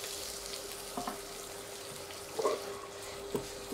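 Oil sizzles steadily in a hot pan as cabbage fries, with a few louder clatters of stirring breaking through the constant hiss.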